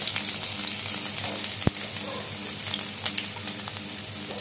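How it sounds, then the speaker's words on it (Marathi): Onion dropped into hot oil for a home-style village amti fries with a continuous crackling sizzle, fairly close and moderately loud, with one sharp clink partway through. "तेल तापत ठेवलेलं आहे कांदा टाकूया"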